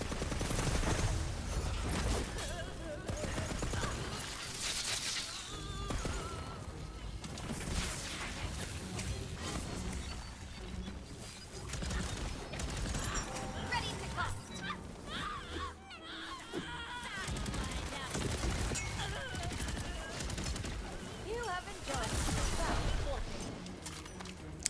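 A video game gun fires in rapid blazing volleys amid crashes, explosions and screeching effects, forming a dense, continuous barrage of combat noise that stays loud throughout.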